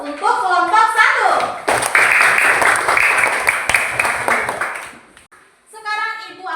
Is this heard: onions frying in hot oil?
no